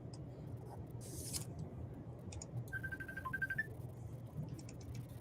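A phone rings faintly during a naval war game stream, a thin repeating electronic tone heard briefly over low background hum and clicks.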